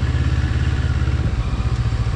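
Heavy NK400 off-road motorcycle engine running with a steady low throb and rapid clattering pulses, loud and close, holding constant without talk.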